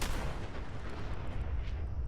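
Explosions and heavy gunfire from a Fallout 4 battle, a dense continuous barrage of booming blasts and crackling shots across the whole stretch, loud and with no talking.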